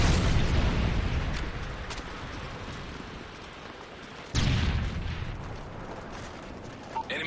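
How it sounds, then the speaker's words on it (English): A Predator missile strike blasts in a Modern Warfare 3 match on the Outpost map, a long rumbling roar that decays before a second sharp burst hits and rolls on loudly. "Friendly Predator missile inbound."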